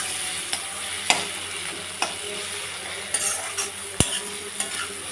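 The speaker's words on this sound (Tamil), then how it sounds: "வெங்காயம் தக்காளி வந்து நல்லா வதங்கி கோல்டன் ப்ரௌன் ஆவிய தடவை வதக்கணும்" Onion and tomato sautéing in a pan for a mutton and potato curry, a soft continuous sizzle broken by scattered spatula scrapes and one sharp metallic knock against the pan.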